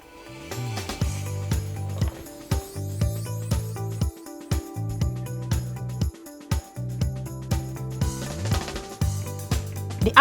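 A sewing machine stitches a slant trouser pocket in repeated bursts of fast mechanical whirring and clatter, each run stopping briefly before starting again, close and clear with no talk.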